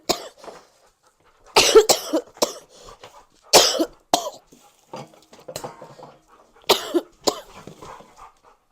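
Several harsh coughs in separate bursts, close and loud, with quiet pauses between them and a faint clatter of dishes.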